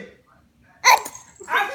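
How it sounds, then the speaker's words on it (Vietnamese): A small child gives one short, sharp sneeze, followed moments later by a softer second burst, close and in an otherwise quiet room. "Nhảy mũi vậy ha con."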